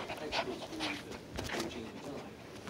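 A small dog pants and whimpers up close during play, its breathy huffs and soft whines running continuously under a person's talk and laughter.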